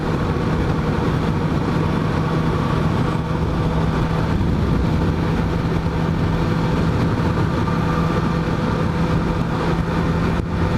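A 2018 Suzuki GSX-S750 motorcycle cruises at highway speed, its engine a steady, loud drone blended with dense wind rush, unbroken throughout with no talking.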